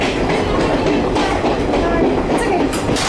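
Grand Canyon Railway train passing close by, a loud, steady roar of wheels with a rhythmic clickety-clack over the rails.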